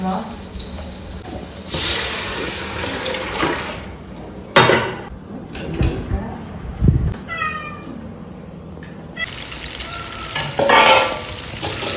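Tomatoes sauté in hot oil for a fish curry, a steady sizzle broken by scraping stirs of the pan, with a brief cat meow partway through.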